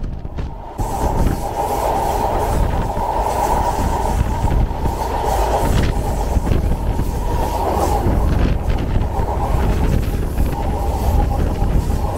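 Madhumati Express rolling along an elevated track, heard from inside as a loud, continuous rumble with rhythmic wheel clatter and a faint squeal, no talk.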